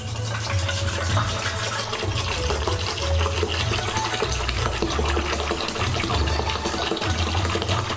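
Water pours steadily into a bucket in a continuous gushing stream, with a low rhythmic mechanical hum beneath it.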